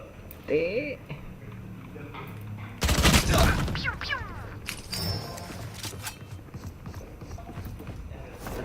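Bursts of gunfire from the video game Valorant pop over a steady game soundscape, with one loud stretch of rapid shots near the middle, while players talk throughout.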